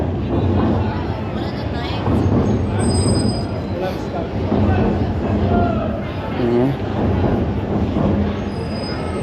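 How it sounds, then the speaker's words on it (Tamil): A train rumbles past with steady low roar and faint metallic wheel squeals, while people talk over the noise. "அது ட்ரெயின் போகுது."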